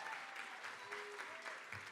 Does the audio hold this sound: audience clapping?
yes